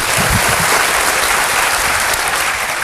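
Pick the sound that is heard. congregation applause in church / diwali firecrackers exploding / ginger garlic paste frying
congregation applause in church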